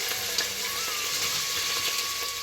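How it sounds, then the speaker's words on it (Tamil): Onion fries in about two tablespoons of oil in a pan for a Hyderabad veg biryani, giving a steady close sizzle and crackle with a thin whistling tone running underneath and no talk. "ஆயில் சேர்த்துக்கோங்க ஒரு வெங்காயத்தை சேர்த்துக்கோங்க இந்த வெங்காயம் வந்து நல்லா ஃப்ரை ஆகணும்"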